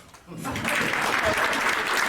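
A burst of clapping from a class group starts suddenly after a quiet moment and continues steadily, fairly close and lively.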